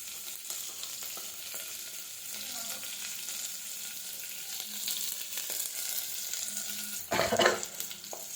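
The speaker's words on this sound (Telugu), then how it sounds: "కొంచెం అల్లం చిన్నగా తరిగిన ముక్కలు వేసేసుకున్నాను. ఇలా దీన్ని కొంచెం లైట్గా ఫ్రై చేసుకోవాలి." Finely chopped ginger frying lightly in oil in a pan, a steady close sizzle with occasional stirring scrapes throughout and a brief louder clatter of the spatula near the end.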